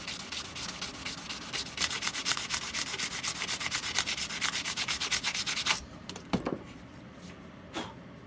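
Plastic on an electronics tape holder is hand-sanded in quick rhythmic back-and-forth strokes, close and fairly loud for several seconds before it stops, followed by a few light handling knocks.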